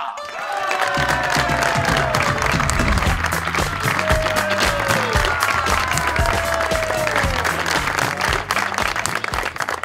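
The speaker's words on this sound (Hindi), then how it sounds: "तो तालियों में इस जोड़े का मेरे साथ इस्तकबाल कीजिएगा।" Pakistani studio audience on the show Hoshyarian greeting film couple Rambo and Sahiba with sustained, loud applause and cheering, dense clapping mixed with whoops and crowd voices, with music playing underneath throughout.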